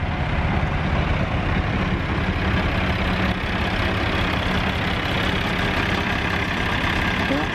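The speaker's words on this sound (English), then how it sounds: "The John Deere tractor here." A John Deere tractor works a field while ploughing, its engine running as a steady, loud, low drone that stays constant throughout without pauses.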